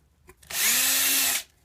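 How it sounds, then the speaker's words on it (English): After a brief soft knock, an electric drill spins up and bores small holes in a wooden cigar box guitar fretboard for about a second at a steady high whine, then stops. "I get my drill and then I just drill along the bottom line"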